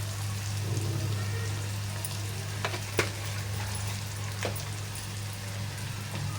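Potatoes frying in oil with turmeric and asafoetida, giving a quiet sizzle with soft crackles. A few sharper ticks and clinks stand out above the low, close hiss.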